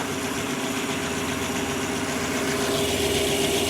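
Chopped 1950 Buick engine idling rough, a steady, close, loud chugging rumble with an uneven, lumpy beat and no voices over it.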